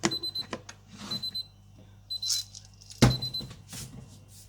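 A kitchen timer beeps in quick high-pitched groups while meat cooks for Flemish carbonnades, with clattering and thumps of kitchen handling around it.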